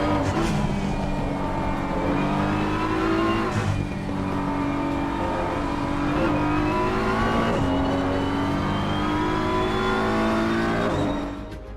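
BMW M4 GT3 race car engine at Hungaroring in Assetto Corsa Competizione, a loud steady engine note that rises and falls through gear changes, revving continuously for several seconds without a break, no voices.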